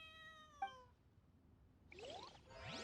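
A cat meows faintly several times, with rising and falling cries heard alone against a quiet background.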